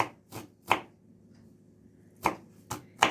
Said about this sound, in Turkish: Börek çeşidimizin ilki için semizotlarımı doğruyorum